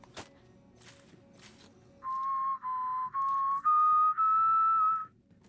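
A Borderlands 3 character whistles a rising series of five sustained, clear notes, preceded by a few soft footstep-like taps, alone with no talk.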